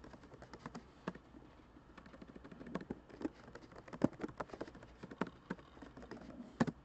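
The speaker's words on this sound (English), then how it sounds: "So I want to type in the content of my new page." Quiet, close typing on a computer keyboard, irregular rapid key clicks in bursts with occasional sharper keystrokes, no talking.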